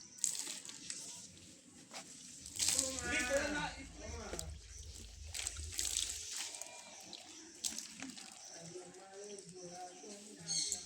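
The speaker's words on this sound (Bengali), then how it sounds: "এবার আমি ধুয়ে নিচ্ছি জল দিয়ে।" Water splashes close by as a face is rinsed after a neem, honey and turmeric face pack, with soft intermittent sloshes and drips while someone talks over the sound.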